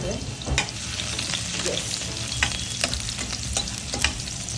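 Crushed garlic sautéing in hot oil for a coriander bhaji gives a steady close sizzle and crackle, with scattered pops and brief stirring scrapes throughout.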